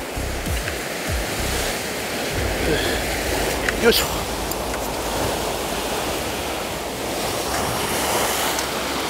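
Ocean surf breaking along the rocky shore of Iki island, Japan, where anglers fish for sea bass: a steady broadband rush of waves with wind buffeting the microphone, and a man grunting briefly over it.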